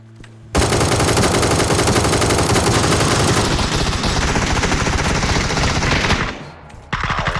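SLR rifle in the shooter game PUBG fires a rapid burst of loud, close shots that blend into a dense continuous volley, stopping briefly before one more loud crack near the end.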